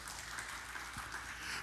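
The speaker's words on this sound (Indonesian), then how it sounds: "Tepuk tangan yang meriah bagi Tuhan." A church congregation claps for God during a worship service: dense, steady applause fills the whole short stretch at an even level.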